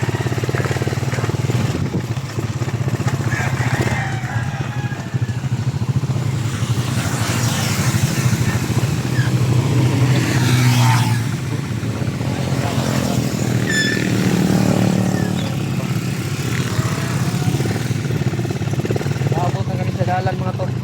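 Motorcycles and other traffic on a busy road, a constant loud engine drone with passing buzz and revving swells, while people talk close by over the noise.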